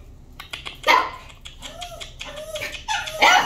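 Dog whimpering in a shelter kennel, several high, wavering whines and yips rising and falling close by, with clattering kennel noise and a brief voice underneath.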